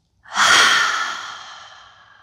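A single deep, slow breath during a hatha yoga session swells quickly and then fades gently over about two seconds, close and clear with no other sound around it.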